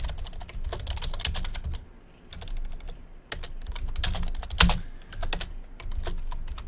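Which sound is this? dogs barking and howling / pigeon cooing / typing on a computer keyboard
typing on a computer keyboard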